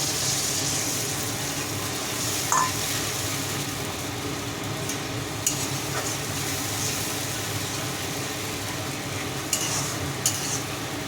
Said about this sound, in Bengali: এবার সর্ষে পেস্টটা দিয়ে দিচ্ছি